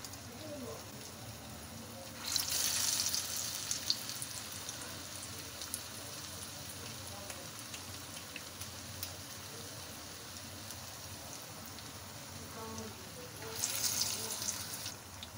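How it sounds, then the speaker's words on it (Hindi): Kebabs of grated bottle gourd and potato fry in a pan over a low to medium flame, giving a steady soft sizzle with two louder hissing surges. Someone talks faintly at moments. "ऐसे कबाब बना के इसमें डाल लीजिएंगे, और लो टू मीडियम फ्लेम पे हम इसको फ्राई कर लेंगे।"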